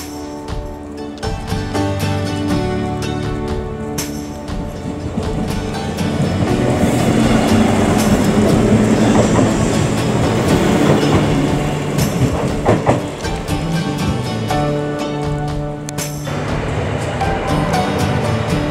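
A train at an island-platform railway station in Poland, loud and continuous rumble with rhythmic clatter of wheels and rolling cars, close by and steady throughout without speech.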